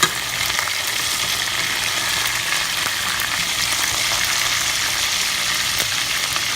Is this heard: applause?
no